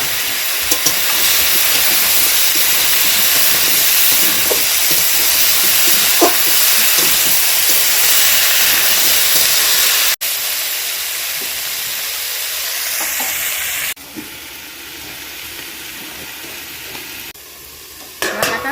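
Banana stem and fig curry sautéing in an uncovered pan, a loud, dense sizzle with steady stirring scrapes that runs for a long stretch, dropping a little in level partway through before continuing.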